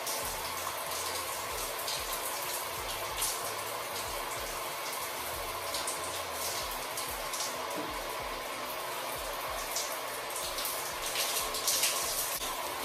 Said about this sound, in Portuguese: E vou lavar a esponjinha também.